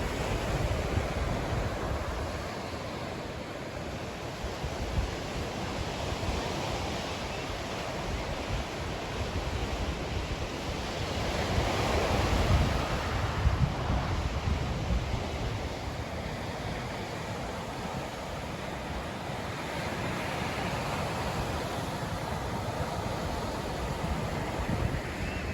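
Pacific Ocean surf at Gold Bluffs Beach, a steady broad wash of breaking waves with a gentle swell in the middle, mixed with wind rumble against the microphone and no voices.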